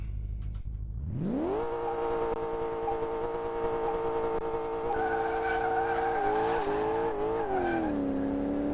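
A Ford F-150 Lariat in Car Mechanic Simulator 2018 launches with its tires spinning. A loud engine surges up from idle into a sustained, high revving drone with layered tire squeal, and the pitch steps through several shifts near the end.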